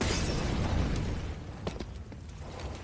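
Grenade blasts in a competitive Counter-Strike esports match: a loud, noisy burst up front settles into a rumbling wash, with a few sharp pops breaking through afterward.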